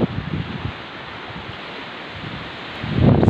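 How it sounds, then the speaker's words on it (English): Gusty wind buffets and roars on an exposed coastal point at Walpole, with rumbling bursts at the start and a strong gust building at the end. "This point is so windy."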